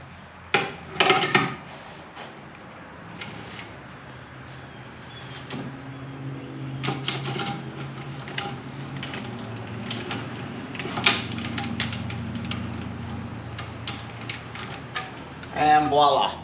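A hand nutsert setting tool worked on a 1965 Lincoln Continental air-ride suspension job, with sharp metallic clicks and clacks, steady ratcheting and threading turns in the middle, then more clunks at the end, close and fairly loud.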